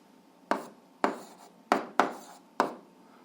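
Hand-written algebra for an 8th-grade exercise: five crisp pen or chalk strokes land in irregular rhythm, each a sharp scratch that fades quickly, with no voice over them.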